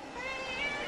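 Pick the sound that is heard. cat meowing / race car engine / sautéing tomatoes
cat meowing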